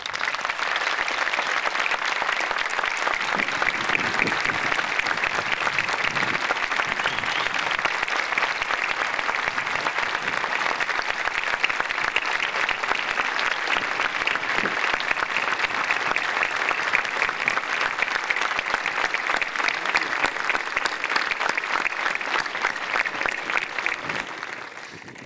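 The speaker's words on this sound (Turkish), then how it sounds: "Bir sonraki alkış sizlerden hocalara gelecekti ama siz onu spontan olarak yaptınız" A large graduation ceremony crowd at Özyeğin University breaks into sustained applause for their teachers, a thick, even wash of many hands clapping that continues for about twenty-five seconds before fading at the close.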